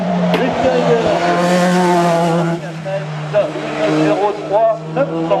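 Race car passing at the Hebecrevon national hill climb, its engine note loud and strongly harmonic, climbing and shifting as it goes by, with a commentator's voice running over it.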